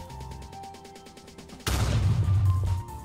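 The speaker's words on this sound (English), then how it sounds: "kills the TNT, makes the explosion, does the particles, breaks off all the blocks" A TNT explosion in the Minecraft video game bursts in loud and sudden after a stretch of quieter rhythmic game sound, then holds a heavy rumbling roar for about a second before fading.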